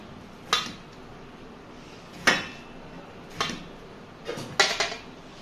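A knife cuts peeled ridge gourd into pieces on a board, giving five sharp, separate chops spaced irregularly over a quiet background, with a quick double cut near the end.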